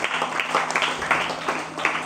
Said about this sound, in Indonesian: terima tepuk tangan dong buat Bintang nih